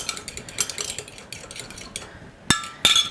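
Whisk or spoon clinking against a bowl as a warm mixture is slowly stirred into egg yolks for lemon meringue pie, with soft scraping strokes and two sharp louder clinks near the end.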